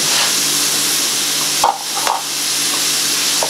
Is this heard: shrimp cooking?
yes